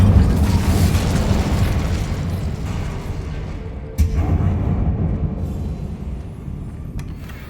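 Incendio fire spell cast in the Hogwarts Legacy video game, a dense rumbling whoosh of flame that slowly fades, with a sharp burst around the middle and a faint click near the end.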